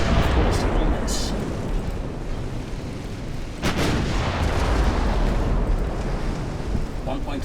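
Eleven-inch battleship main guns firing in the naval game Ultimate Admiral Dreadnoughts, a dense continuous barrage of heavy booms and rumbling blasts layered throughout, loud and close with a sharper report midway.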